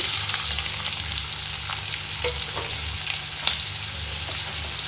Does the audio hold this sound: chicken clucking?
no